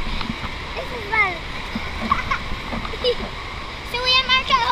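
Splashing water and rolling waves fill an indoor wave pool, with scattered children's voices and shouts over the steady wash.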